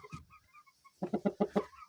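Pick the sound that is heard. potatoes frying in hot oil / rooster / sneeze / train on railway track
rooster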